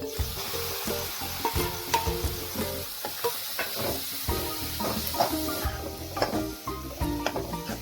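Soft sizzling of grated khoya roasting in ghee in a pan as it is stirred and scraped repeatedly, with irregular clinks and scrapes of a spoon throughout.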